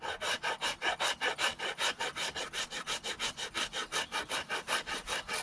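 A hand saw cutting a kerf into a wooden axe handle, producing steady, rhythmic back-and-forth rasping strokes, about four per second, close up and loud with no talking.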